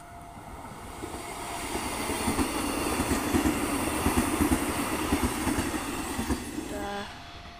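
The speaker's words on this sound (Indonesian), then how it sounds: "Oke, KRL-nya sudah melintas." A KRL KFW I9000 electric commuter train rushes past at speed on a trial run, its loud rumble and rhythmic clickety-clack of wheels building, holding steady close by, then dropping away at the end.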